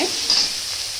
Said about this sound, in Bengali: দিয়ে আবারও ঢাকা দিয়ে ভাজতে দেবো। ক্যাপসিকামটা দিয়ে দেবো।